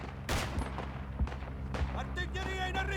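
Rifle shots in the World War 1 mountain-warfare video game Isonzo, several sharp cracks fired at intervals among distant battlefield gunfire and booms, under a steady low rumble.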